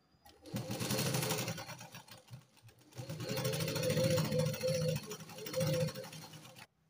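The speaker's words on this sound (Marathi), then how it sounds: "अशा प्रकारे अस्तर ठेवायचं आणि इथे सरळ शिलाई घालून घ्यायची." A sewing machine stitches the lining of a katori blouse in two close, loud whirring bursts of fast, even needle rhythm, with a short pause between them.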